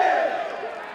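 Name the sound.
baseball crowd cheering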